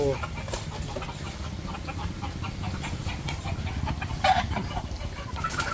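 Pet chickens cluck steadily and close by while they are carried to a new coop, with rustling and handling noise under the constant fowl chatter.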